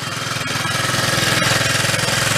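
An old little Honda dual sport motorcycle, about fifty years old, idles loud and close after being choked, its engine chugging in a steady, rough, rapid pulse with no talk.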